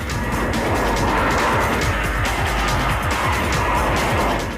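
A Porsche GT3's loud, roaring engine runs steadily with a harsh, sustained squeal of tires, close and continuous throughout.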